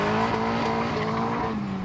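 A homemade car braking hard, its engine note dropping under a loud, close tire-squeal-like howl that holds steadily for about two seconds.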